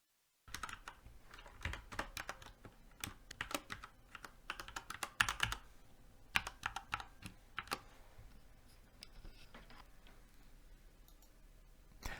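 Quiet, close typing of login details on a computer keyboard, irregular clusters of key clicks with short pauses, no voices.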